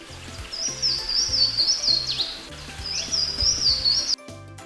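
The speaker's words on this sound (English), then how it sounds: "Louisiana water thrush." A Louisiana waterthrush sings clear, high, ringing phrases, two long bright runs broken by a short pause, close and loud over a soft music bed that cuts off at the end.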